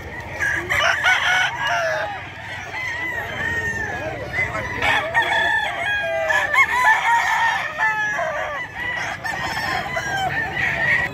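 Sweater gamefowl roosters crow repeatedly and overlap at a busy Bocaue pet market, with clucking and crowd noise filling the background and no talk over them.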